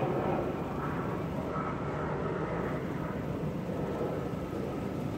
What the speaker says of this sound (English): Can y'all hear that? It's like an airplane or something.